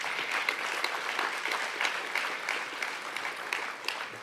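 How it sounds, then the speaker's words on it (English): A conference audience at a prisoner reentry event gives a sustained round of applause, many hands clapping at once in a steady, fairly loud wash with no talk over it. "Can we have another round of applause?"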